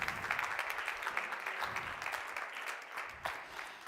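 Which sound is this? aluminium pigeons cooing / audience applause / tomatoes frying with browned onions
audience applause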